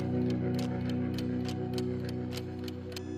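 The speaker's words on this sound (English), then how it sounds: "ticking clocks are heard coming in." Ticking clocks open a tribute version of a song, a steady rapid tick-tock rhythm of several clocks ringing over a sustained low musical drone, fairly loud throughout and fading slightly toward the end.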